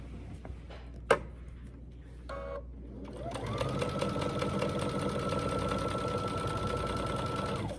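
A sewing machine stitching down the side of a quilt after a pivot, starting after a few handling clicks and knocks and then running steadily and evenly until the end.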